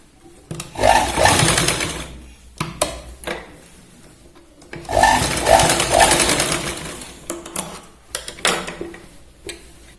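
Sewing machine stitching a boat neck kurti, running in two long loud bursts of rapid mechanical stitching separated by short pauses and lighter clicks, close up with no talk.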